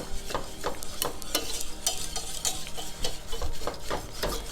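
A whisk scrapes briskly and continuously through flour and milk with softened onions in a pan, working them into a paste for scalloped potatoes, heard up close as rapid rhythmic rasping strokes with no talk.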